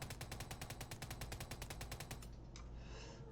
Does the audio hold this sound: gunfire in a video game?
yes